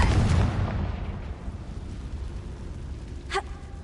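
A Confringo blasting curse explodes in Hogwarts Legacy, a loud booming burst at the start that rumbles and fades, followed by a brief sharp ringing hit near the end.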